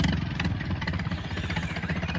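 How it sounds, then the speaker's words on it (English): A tractor engine chugs steadily up close, a continuous rough, rumbling drone with a rapid knocking pulse and no pauses. "Alf was out on his tractor"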